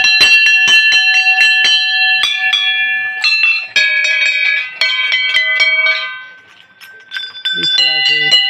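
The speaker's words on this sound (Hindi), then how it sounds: "इस तरह से यहाँ पर हम बहुत सारी हमारी घंटियाँ लगी हुई है" Many bells of differing pitches being rung by hand at the Lakshmi Narayan temple, a dense, loud cascade of overlapping metallic strikes with long ringing tones, thinning out briefly before resuming.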